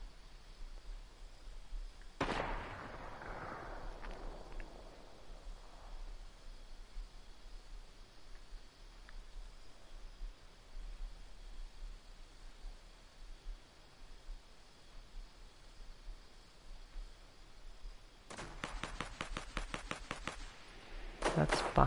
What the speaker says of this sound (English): this peaceful silence is interrupted by the loud sound of a gunshot